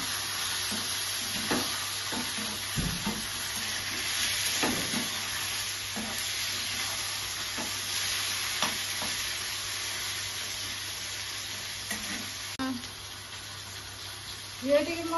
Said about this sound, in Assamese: আগতে মাংসটো পিঁয়াজে দি ধুনীয়াকৈ আগতে ভাজি ল'ম